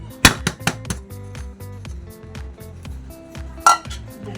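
A metal cake pan clanks and rattles as a chocolate cake is turned out, with a sharp clang near the start, a run of lighter knocks and taps, and another loud clink later, no talking.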